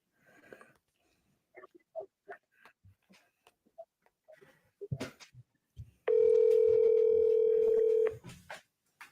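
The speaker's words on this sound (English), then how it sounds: "You reached the voicemail box" A steady voicemail beep tone follows a recorded telephone greeting, one sustained electronic tone lasting about two seconds, clear and loud after the spoken message ends.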